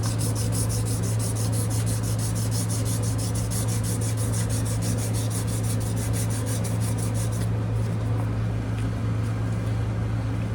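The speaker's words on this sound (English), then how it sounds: "So just polishing the tops, going the other way" The fret tops of a 1943 Martin D18 guitar are polished during a refret, making a continuous, close, rhythmic rubbing with fast even strokes and a steady low hum underneath.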